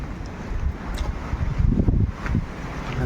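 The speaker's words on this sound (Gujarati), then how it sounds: "પવન બહુ ભારે છે એટલે થોડો પકડીને હાલવું પડશે" Strong wind on a hill trail buffets and roars in uneven gusts, rumbling heavily against the microphone, loud and close, with no talking.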